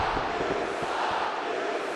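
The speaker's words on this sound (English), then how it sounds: "This crowd here voicing their opinion!" A large crowd at a Melee gaming event cheers and shouts together in a dense, continuous roar of many voices, loud throughout.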